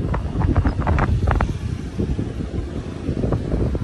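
Strong wind roars steadily against the microphone while riding on a boat, with low rumbling buffeting throughout and faint voices in the background.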